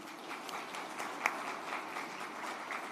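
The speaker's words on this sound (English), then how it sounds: "A round of applause for that team," Audience applause at a work and productivity summit, an even sustained patter of many hands at moderate distance with one sharper clap standing out midway.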